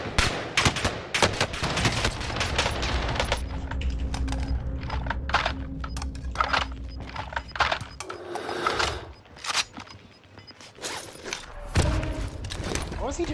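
Rapid gunfire from a Warzone solos mini-royale match, loud bursts of automatic shots with clattering effects, while a player talks over the action throughout.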